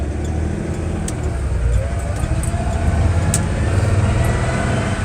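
A steady car engine drones on while driving down a mountain road, a constant low rumble with road noise, close and even throughout, with no voices.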